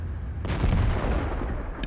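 A single heavy tank cannon shot in World of Tanks during a tier X match with a T32, booming suddenly and loudly, then a deep rumbling tail.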